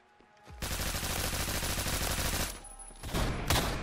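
Rapid automatic gunfire in the Roblox shooter Phantom Forces, a dense continuous burst that breaks off briefly and resumes, loud and close.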